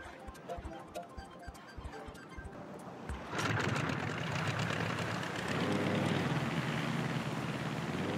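In the Island Flyover mode of Wii Sports Resort, a small plane's engine drones steadily. It comes in after a run of short rhythmic thumps and holds a loud, continuous hum to the end.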